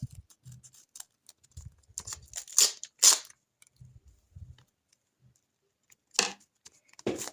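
A paper packet being cut open by eye during a paper-craft unboxing: a few sharp, crisp snips and crackles, close and fairly quiet, spaced out with short pauses and a pair of louder cuts near the end.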